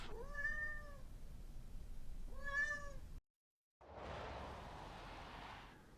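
Cats meowing at a campus event: two clear, drawn-out meows close by, then a short silence followed by a burst of broadband noise.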